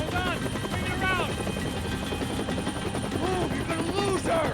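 Helicopter in the Max Payne 3 video game, a steady rotor drone running the whole time beneath shouted in-game dialogue and scattered effects.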